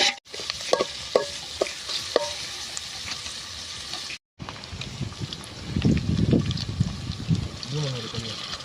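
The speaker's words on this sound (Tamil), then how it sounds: "வெங்காயத்தை போட போறாப்புல நம்ம முத்துப்பாண்டி." Chopped onions go into a hot frying pan with cinnamon for a village-style chicken gravy cooked outdoors in a forest, sizzling steadily as they are stirred with a few scraping strokes; a brief gap breaks it midway, then frying grows louder.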